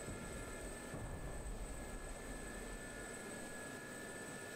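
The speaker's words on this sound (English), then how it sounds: "the helicopter will slew around" Steady low rotor and engine drone of a Gazelle helicopter in the flight simulator game DCS, continuous and even with a faint high whine above it, no voices.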